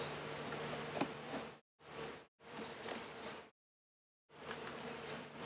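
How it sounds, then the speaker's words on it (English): Honey bees buzz steadily and close up during an inspection of a hive in southwest Michigan. The soft, broadband drone comes in several bursts separated by brief silent gaps, with no talking. "There's a lot of bees in that lower box."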